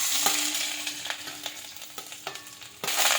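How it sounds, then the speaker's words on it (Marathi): Garlic frying in hot oil in a pan while making a puffed-rice chivda, a close crackling sizzle punctuated by a handful of sharp scraping strokes as it is stirred, no voices. "आता आपल्याला लसूण भाजून घ्यायचं आहे"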